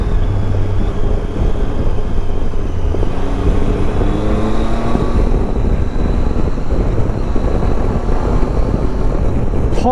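A 2017 Triumph Tiger 800 motorcycle in A2 version being ridden, its engine droning steadily under heavy wind rush, with pitch rising and falling through gear changes.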